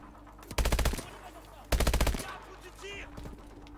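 Two heavy bursts of rapid automatic gunfire from the video game Call of Duty Advanced Warfare, each about half a second, loud and close, separated by a short pause, with faint game effects between and after.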